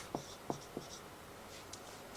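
A word being written on a board during a school English grammar lesson: three quick, scratchy strokes in a row, close and fairly faint, followed by a softer tap and light rustle in a quiet room with no talking.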